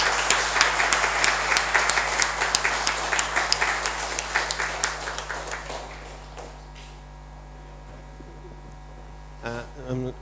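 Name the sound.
thundering audience applause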